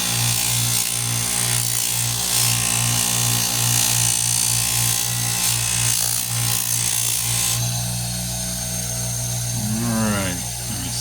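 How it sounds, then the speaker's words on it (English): Bench buffing wheel loaded with polishing compound working a Coleman lantern part, a loud, steady motor whine with a rhythmic pulsing hum that runs throughout, easing slightly near the end. "Then we're going to start the buffing process."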